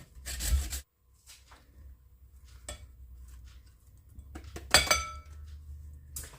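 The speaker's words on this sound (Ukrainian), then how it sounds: "Натираю на середню решітку." Pumpkin scraped across a medium grater for pumpkin cheese pancakes: a few separate close, rasping strokes with quiet pauses between them.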